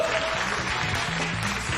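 Audience applause on a television talk show set, a short burst of continuous clapping with a low hum running beneath it.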